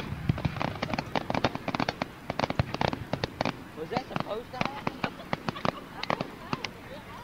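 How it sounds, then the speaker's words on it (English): Many fireworks set off in one burst, a dense run of sharp bangs and crackles with no steady rhythm, close and loud, and people talking through it. "That was all the fireworks went off at once."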